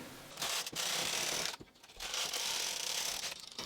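A Brother 260 bulky knitting machine carriage sweeps across the needle bed while knitting a dog sweater, making two long rasping, clattering passes separated by a brief pause, up close with no speech.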